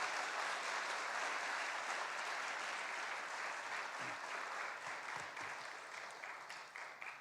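A church congregation at an evening revival service claps together to welcome the guest speaker, a dense and steady round of applause that tapers off slightly toward the end, with no voices over it.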